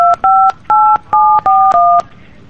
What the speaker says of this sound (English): you don't press it on the phone